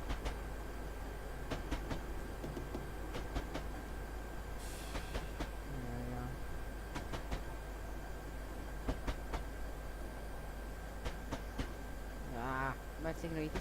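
A freight train on the North London Line in stormy weather in Train Simulator 2017 rolls along with a steady low rumble and regular clickety-clack of wheels over rail joints, plus brief higher squeals, with no voices.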